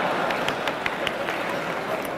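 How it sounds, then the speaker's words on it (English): Audience applause at a debate: sustained, dense clapping from a large hall crowd, loud and steady throughout with scattered sharper individual claps standing out. "Then hold your applause, for heaven's sake."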